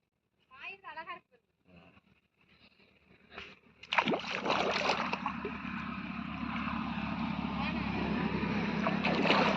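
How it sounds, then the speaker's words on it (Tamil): A few spoken words, then a sudden rush of water flowing through a village irrigation channel to a field takes over, a steady churning gush that continues loudly to the end. "இதுலேருந்து தான் வயலுக்கு தண்ணி வடியுது"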